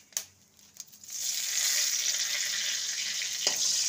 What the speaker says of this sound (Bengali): ফোড়নটাকে কয়েক সেকেন্ড ভেজে নেব।